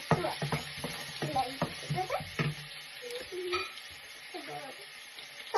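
Ginger sizzles and crackles in a hot pan, with bursts of stirring and scraping clattering over a steady frying hiss; a faint voice murmurs briefly.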